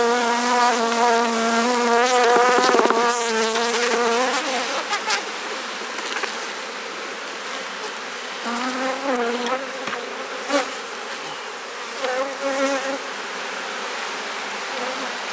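A dense, steady drone of many bees buzzing close by, with individual insects rising and falling in pitch as they fly past.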